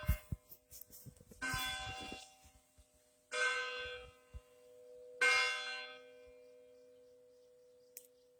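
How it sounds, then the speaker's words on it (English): Chimes ring out in three distinct strikes a couple of seconds apart, each bright and resonant with a long decaying tail, heard alone in a quiet setting with a faint tap near the end. "let's listen to the chimes one more time."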